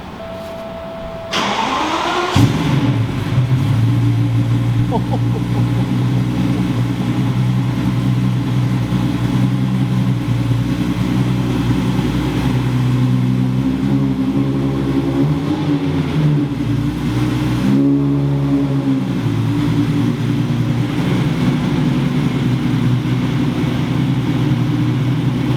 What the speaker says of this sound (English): cold start on the yellow